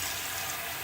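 Water runs steadily from a tap into a shaving scuttle, a continuous close hiss with no pauses and no voices over it.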